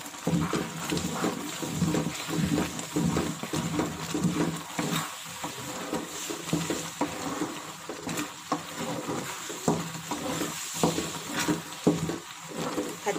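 Palm jaggery syrup boiling in a pan while being stirred, giving a continuous bubbling sizzle with irregular scraping and sloshing strokes, close and fairly loud, with no talking.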